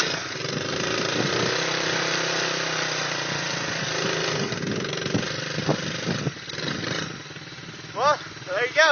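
A 70cc dirt bike engine runs close by with a buzzy, uneven idle that revs and sputters in short bursts, while people talk and shout over it.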